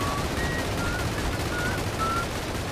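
Rapid automatic gunfire in a World War II virtual reality shooter game, a dense continuous rattle of shots that fills the whole stretch loudly and evenly, with no gaps or talk.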